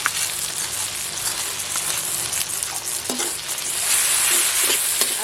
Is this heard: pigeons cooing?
no